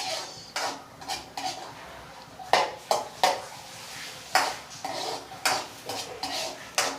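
Garlic and onion sautéing in a home kitchen pan, heard as a run of sharp metallic clanks and scrapes of a utensil against the pan, close and fairly loud, with a faint sizzle beneath and no talking.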